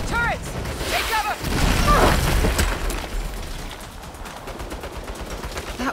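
Automated turrets open fire during the first mission of the Saints Row (2022) video game, a loud clatter of rapid shots and impacts under frantic shouted voices, with bursts continuing as the noise eases slightly toward the end.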